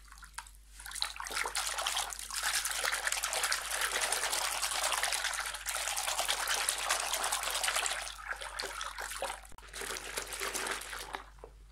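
Water being stirred and mixed with rose petals in a bowl gives a steady soft sloshing and trickling, faint and close, running almost continuously with a brief pause near the end.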